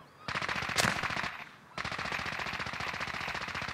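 SMG fire in a video game: a rapid, loud automatic burst, a brief break, then a second sustained burst of evenly spaced shots.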